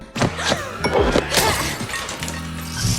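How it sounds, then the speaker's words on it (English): Glass shattering against a head in the film M3GAN, heard as a sharp crash with clinking debris and thuds over tense music and background noise. "smashes her with a glass of water"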